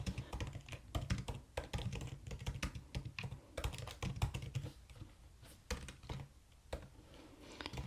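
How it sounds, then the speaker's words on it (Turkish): Steady, rapid typing on a computer keyboard, close and quiet, with dense clicking keystrokes and brief pauses. "İlk duyduğumu klavyeyle yazıyorum."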